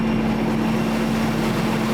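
A Big Cam Cummins diesel swapped into a 935 Versatile tractor runs at a steady drone, loud and constant with a strong low tonal hum and no talk.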